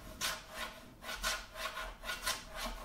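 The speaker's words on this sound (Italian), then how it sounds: "Si sentono le spazzole dentro." Jazz drum brushes sweep in a steady walking-bass rhythm within a guitar backing track, soft swishing strokes pulsing about twice a second at moderate, even loudness with no talking.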